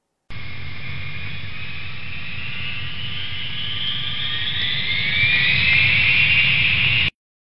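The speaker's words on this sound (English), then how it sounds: "Plane." Steady roar of a jet airplane passing overhead, a rumbling engine drone with a rising whine that grows louder toward the end before cutting off.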